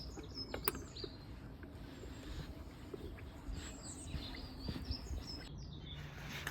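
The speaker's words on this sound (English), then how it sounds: "You can hear loads of birds, which is a good sign. The dawn chorus." Faint, scattered dawn chorus in a garden, with chirps and tweets from several birds at a distance over a low background rumble.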